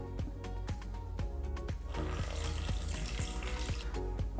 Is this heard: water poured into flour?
yes